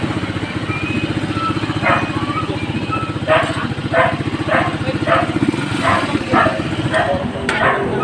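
A Rusi TC 125 motorcycle engine, started by kick starter after failing on the push-button starter, idles with a steady, fast putter, close by and loud, while a person talks intermittently over it.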